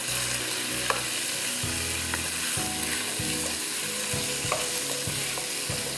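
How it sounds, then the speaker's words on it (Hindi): Half a kilo of chicken pieces frying in a pan, a dense steady sizzle close by with occasional stirring scrapes, no voices. "पाँच मिनट इसको फ्राई करूँगी कि चिकन पिंक से वाइट हो जाए"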